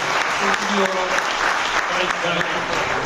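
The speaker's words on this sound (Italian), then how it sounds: "Senza di loro un applauso" Attendees at a corporate product presentation in Dubai give a sustained round of applause, a thick, even crowd clapping that fills the room, with a voice and some tonal sound running beneath it.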